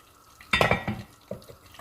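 A metal lid clatters onto a cooking pot with a sharp clang, followed by a smaller clink and light rattling as it settles.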